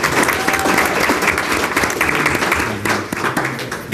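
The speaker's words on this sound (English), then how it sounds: "Can we give him a round of applause?" Sustained audience applause honoring a high school athlete at a recognition event, dense steady clapping from a sizable crowd that carries on for the whole stretch, easing slightly near the end.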